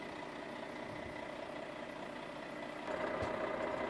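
Diesel engine of a truck tractor unit idling steadily at close range, its low drone rising in level and gaining a harder tone near the end as it prepares to pull away from the trailer.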